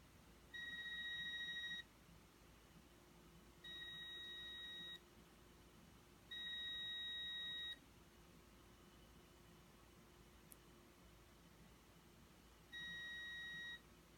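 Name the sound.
continuity tester beeping while checking grounding wire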